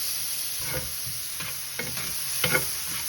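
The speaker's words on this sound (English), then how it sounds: "Go ahead and fry that up." Peppers frying in a pan for a blackened salmon Cajun cream sauce give a steady close sizzle with several soft stirring scrapes and taps, no voices.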